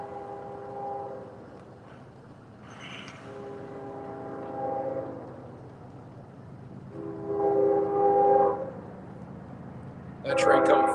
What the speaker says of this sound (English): that train coming fast too.